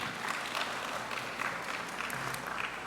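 Applause at the Trinidad and Tobago Internet Governance Forum 2020, a steady patter of clapping that sounds thin and somewhat distant, like a small audience or a remote feed, continuous and fairly quiet.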